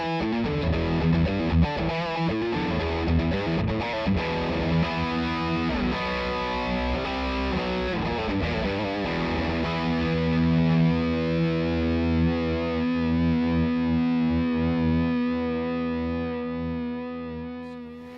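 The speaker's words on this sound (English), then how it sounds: "rock is for classic high gain tones" A heavily distorted electric guitar through a VOX MV50 amplifier on its high-gain rock setting plays chords and riffs, then lets a thick, saturated chord ring out and slowly decay.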